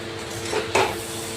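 Drained vermicelli with mushroom, mixed vegetables and cauliflower is stirred in a pan, giving a couple of soft metallic scrapes and clinks of a utensil against the pan over a low background hiss.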